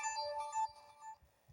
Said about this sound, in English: his phone buzzed with a text from Byron Stimson, the Texas rancher who'd